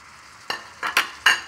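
Celery stir-frying in a hot pan: several quick, sharp sizzling bursts with a stir or scrape, close and fairly quiet, the pan settling into a soft hiss between them.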